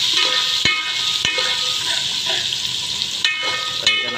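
Garlic with red and green chillies fries in hot oil for dal, producing a loud, continuous close sizzle with a few sharp clicks of a utensil against the pan.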